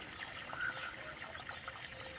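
Water runs into a freshly dug garden furrow prepared for tomato seedlings, a faint, steady trickle with light splashing throughout.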